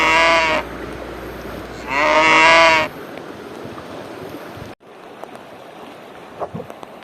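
Two loud, drawn-out moos from a herd of cows, close by, followed by quieter rustling and faint clicks, heard from a rubber raft on a river near Manado, Indonesia.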